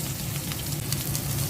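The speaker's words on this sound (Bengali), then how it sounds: "দুটো মাছ আমি কড়া করে ভেজে নিচ্ছি" Fish fried crisp in hot oil, a steady close sizzle with a low bubbling hum running evenly throughout, no voices.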